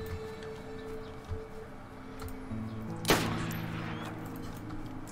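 A single loud gunshot rings out in the survival game DayZ, one sharp crack with a lingering tail over a steady background hum.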